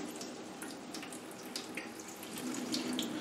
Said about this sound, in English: just filling it up and let this water run through it